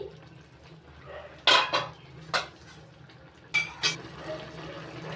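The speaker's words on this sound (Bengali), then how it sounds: "ঢাকনা তুলে নিচ্ছি" A lid is lifted off a cooking pot while fish curry with gourd simmers, sounding as a few sharp metallic clinks and clatters, close and fairly loud, spaced over a quiet kitchen background with faint liquid sounds.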